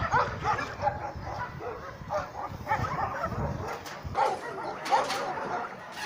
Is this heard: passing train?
no